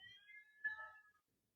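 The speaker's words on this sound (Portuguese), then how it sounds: "O meu gatinho, como é que está ficando aí? Está vendo meu fundo musical? É o gatinho." A cat meows softly in the background of a quiet room, giving a couple of faint, wavering cries that fade out after about a second.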